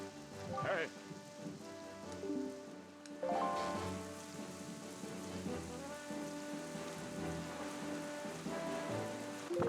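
Rain from the move Rain Dance falls steadily in a Pokémon video game. A soft patter runs under tonal game music, with a low rumble like distant thunder.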